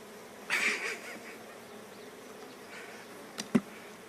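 Honeybees from an opened hive during an inspection, giving a faint, steady buzz throughout, with a brief louder swell near the start and a sharp knock toward the end.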